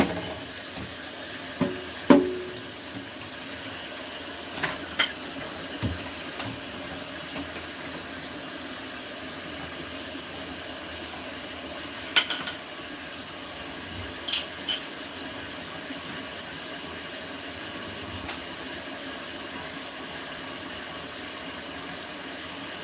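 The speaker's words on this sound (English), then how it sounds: "that water is boiling" Water boiling in a cooking pot for coconut curry shrimp and rice, a steady low bubbling hiss with a few light kitchen clanks scattered through it.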